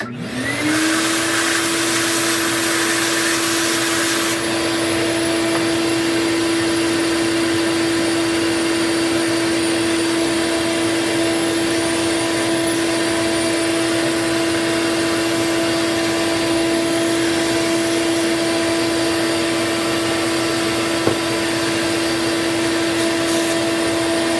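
A PS5 console with black vented side panels runs its cooling fan in a loud, steady, close whirring drone with a constant pitched whine, unbroken and without talk for the whole stretch.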